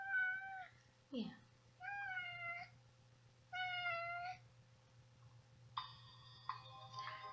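A person imitates a cat with a series of drawn-out, high meows, five or six separate calls with pauses between, close and fairly quiet over a low steady hum and faint ticking.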